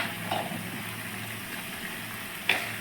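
Ground cumin, coriander and turmeric sizzle steadily in hot oil while being fried for a homestyle cauliflower and potato curry, with a continuous close frying hiss and a couple of brief stirring clinks.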